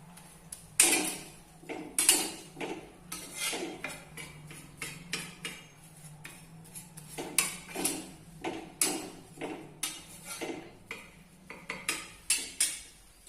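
Sesame mixture dry-roasting in a pan the way besan for ladoo is roasted, heard as repeated scraping and clinking strokes of a spoon against the metal pan in an uneven rhythm, close and fairly quiet with no talk.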